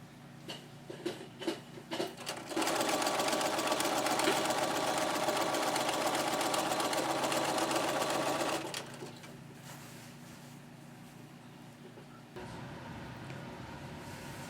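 Sewing machine stitching quilt binding, a loud steady motorized whir running for several seconds after brief stop-start bursts, then dropping to a quieter hum.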